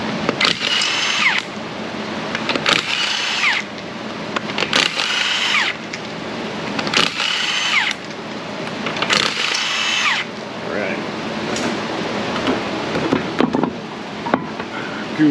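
Power tool spinning off the lug nuts of a Hyundai Sonata wheel in a repair shop, loud repeated whirring bursts of roughly a second each, separated by short pauses, with faint talk between.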